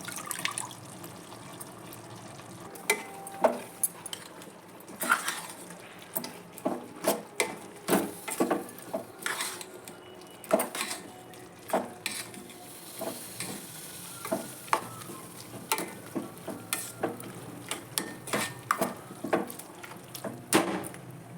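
Tomatoes cooking on high flame for a gangavayi curry, a steady close sizzle punctuated by frequent scraping stirs of a spoon in the pan.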